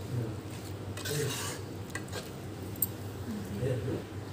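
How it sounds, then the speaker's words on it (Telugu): Utensils scraping and clinking against a pot as amla pickle ingredients, tamarind among them, are mixed into oil, a steady close stirring with scattered metallic taps. "ఇప్పుడు దీన్ని బాగా మిక్స్ చేసుకుందామండి ఆయిల్లో కలిపేసేలాగా"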